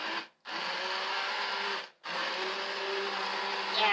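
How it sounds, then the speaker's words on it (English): Immersion blender whirring through tomato garlic soup, a loud steady motor drone that cuts out twice briefly and restarts, running close with no talking. "This is an immersion blender, okay? So I'm going to put it in here."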